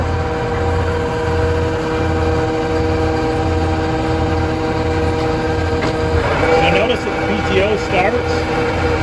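A New Holland BigBaler 340 flywheel spins up toward full RPM, a steady droning hum with layered mechanical whine and a rising rattle late on, loud and close under brief talk.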